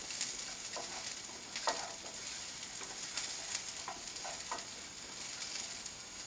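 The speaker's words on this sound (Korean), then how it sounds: "우엉은 좀 오래 안 익기 때문에 10분가량 이렇게 볶아주시면 됩니다." Burdock root stir-fried in a pan for a root soup, a soft, even sizzle with faint, occasional stirring taps, quiet and close.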